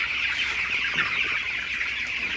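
Broiler chickens in a poultry house on their seventeenth day, a dense continuous chorus of clucking and chirping from many birds, steady and fairly close, with no talking.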